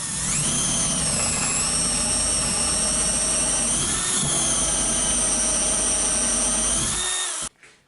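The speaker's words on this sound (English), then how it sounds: "I drilled the mounting holes for the crossbeam" A power drill bores mounting holes through a wooden crossbeam for a sandpaper dispenser shelf, a loud steady whine running close and continuous for about seven seconds before cutting off abruptly.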